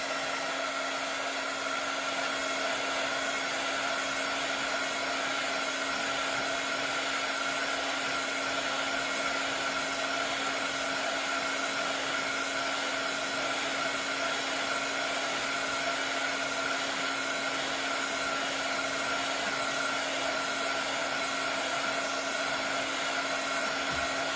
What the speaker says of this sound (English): I'm going to put a little heat to it and let it start moving around.